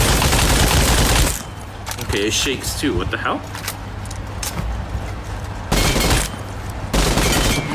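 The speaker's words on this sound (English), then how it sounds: "Even when ADSing, it starts to go bang, bang, bang, bang, bang." Rapid automatic fire from an ASM Abakan assault rifle in PUBG, loud repeated bursts of shots at the start and in short later bursts, with someone talking between them.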